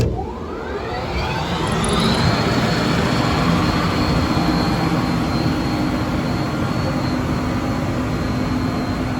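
A 15-horsepower exhaust blower on a Mapco 10,000 CFM PVC fume scrubber spins up with a rising whine, then settles into a steady, loud broadband roar and hum that runs on alone to the end.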